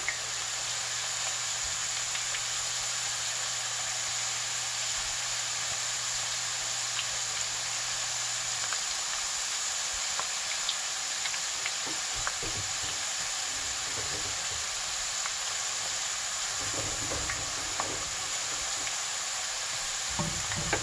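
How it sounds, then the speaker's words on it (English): Potato chips fry in a crowded skillet of oil, a dense, steady sizzling hiss that runs throughout, with stirring and flipping scrapes and clinks growing busier toward the end. "You need to be able to stir these around and flip them over"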